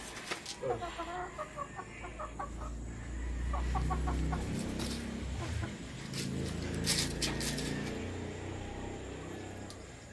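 White Kelso gamefowl in a breeding pen give soft, scattered clucks and short calls at moderate distance over a rustling, faintly noisy farm background, with no talking.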